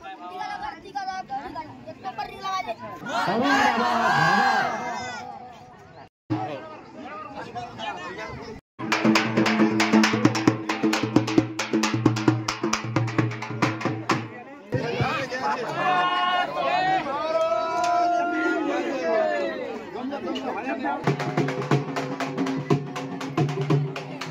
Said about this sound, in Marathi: गर्दी पण खूप भयंकर आहे आता